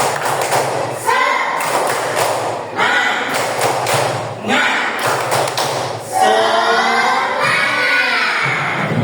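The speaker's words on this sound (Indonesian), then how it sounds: "Sekali lagi, tepuk semangat." Students in a classroom repeat a rhythmic spirit clap: close, loud clusters of group clapping in regular patterned bursts, mixed with chanting young voices and a final drawn-out shout.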